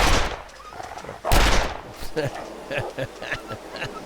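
A handgun fires at a wolf in the survival game The Long Dark, with one loud, sharp shot followed by a string of fainter, clipped bangs and clicks spaced through the rest of the moment.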